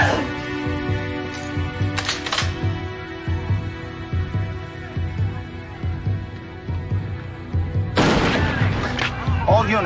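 Gunshots from a Winchester Model 70 rifle in a movie scene ring out as sharp cracks around the two- and eight-second marks, set against a dense, throbbing dramatic score with a loud, echoing final blast.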